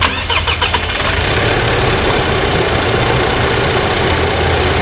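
A 2025 Mitsubishi Triton 2.4 Active Cab pickup engine cranks briefly and catches, then settles into a loud, steady idle close by, with no voices.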